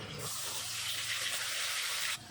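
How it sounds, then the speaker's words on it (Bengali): Water runs steadily for about two seconds as a plate is rinsed and a little water goes into a pan of ground spices in oil for a drumstick fish curry. It is a close, even gush that cuts off abruptly. "প্লেটটা ধুয়ে সামান্য একটু জল দিয়ে দেবো"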